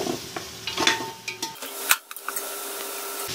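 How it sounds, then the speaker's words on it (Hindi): Beef trotters (paya) being stirred in a cooking pot, giving soft scraping and clinking strokes with light sizzle, close and fairly quiet, with a sharper clatter near the middle. "एक दफ़ा इसे चला लेंगे।"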